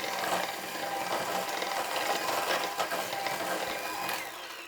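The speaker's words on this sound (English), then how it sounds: "Then I will also be whisking this together until the egg is totally incorporated" Egg being whisked into creamed butter and sugar batter for a chocolate marble cake, a dense continuous whirring and rattling at close range, steady throughout and easing off at the very end.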